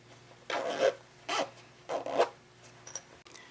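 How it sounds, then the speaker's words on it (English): A zipper on a sewn sling bag being pulled closed in several short, close rasping strokes with brief pauses between them, quiet and alone. "And then you want to go ahead and close your zipper."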